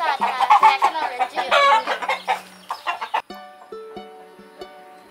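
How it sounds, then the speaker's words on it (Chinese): Caged chickens give loud, harsh, agitated clucks and squawks up close. The calls come in quick bursts and then thin out to fewer, quieter calls, with a faint tonal hum in the background. "一靠近笼子就发出刺耳的鸡啼声，这是现实中动物的恐慌。"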